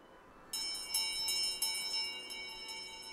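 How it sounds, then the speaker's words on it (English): A small dinner bell in the video game Visions of Mana rings rapidly several times, bright metallic strikes that leave a shimmering ring, fairly faint against a quiet background. "He ringing the dinner bell?"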